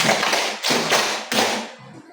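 A classroom group claps together in a counting game, producing three loud unison bursts of claps about two-thirds of a second apart, each fading quickly before the next.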